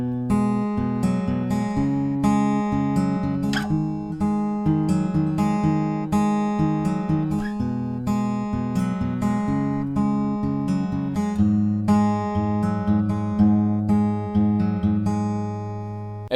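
Acoustic guitar fingerpicking a chorus pattern, steady plucked bass notes and arpeggiated chord tones in a continuous even rhythm, close and clear with no voices.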